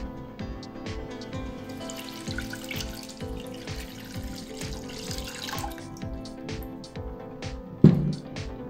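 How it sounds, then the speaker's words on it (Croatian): Water runs and splashes steadily into a cooking pot holding quartered onion and a bay leaf, a continuous trickling pour in a kitchen ending with a sharp clunk. "dodat ćemo 300 ml vode."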